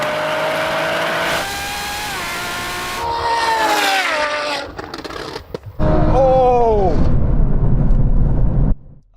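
A Ferrari V12 and a Nissan NISMO V6 launch side by side in a drag race, loud engines revving and shifting up through rising and falling tones, with people talking over the roar.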